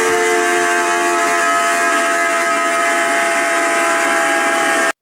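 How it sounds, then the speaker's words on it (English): A household toilet gives off a steady, high, piercing whistle with a tonal shriek, loud and unbroken for about five seconds before stopping abruptly. "Can somebody tell me why my toilet sounds like this?"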